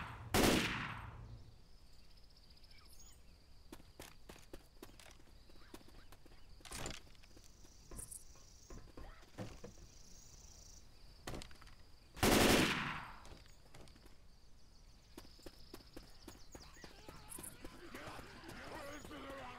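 Rifle fire in the zombie shooter Left 4 Dead 2, on a city street: scattered sharp shots with two loud close blasts near the start and around the middle, over steady game ambience with talking.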